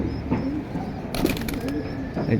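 Pigeons at a pigeon sale, young birds among them, give soft low cooing calls that recur in short bursts alongside a few wing flutters, set in a busy background with faint voices.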